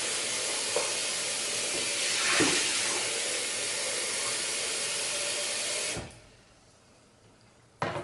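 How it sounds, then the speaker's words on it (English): Water pours and runs continuously into a bowl as it is emptied and refilled to rinse an electronic makeup brush cleaner, a loud steady splashing flow that stops abruptly, leaving near-silence before a final clunk. "I'm gonna change the water in the bowl and clean it for the last time"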